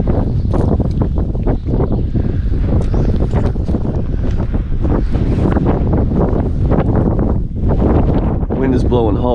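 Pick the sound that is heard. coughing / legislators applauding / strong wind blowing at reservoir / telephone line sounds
strong wind blowing at reservoir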